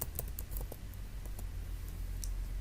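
Typing on a computer keyboard, a quick run of light clicks and keystrokes over a low steady hum, fairly faint.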